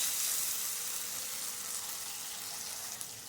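Thinly sliced tomato frying in a pan for a chicken and amaranth stem curry, a steady hissing sizzle, close and even throughout with no speech.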